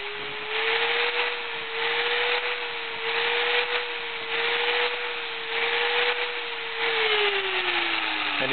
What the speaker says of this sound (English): holding the grinder at a slight angle, we're going to just spin the gear around a little while we're grinding